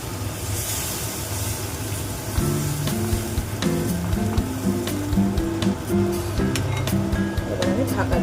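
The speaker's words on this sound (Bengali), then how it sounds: "এবার আমি দিয়ে দেবো গরম জল।" Hot water hits a pan of frying potol, potato and shrimp, making a steady hissing sizzle that runs throughout, with a voice talking over it.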